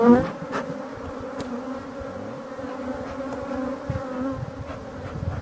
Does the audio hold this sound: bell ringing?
no